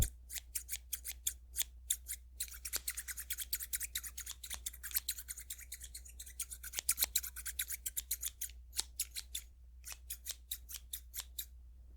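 Rapid, steady snipping of scissors, dozens of crisp close cuts in a continuous rhythm with a few brief pauses, over a low hum.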